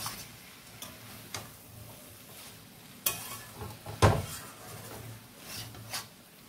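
A utensil stirs spicy prawn and taro stolon curry in a pan, making sparse knocks and scrapes, a louder clatter here and there, over a low, quiet sizzle.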